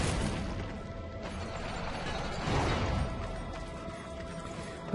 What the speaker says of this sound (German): Drück ich mal rein, dann geht die Tür hier auf.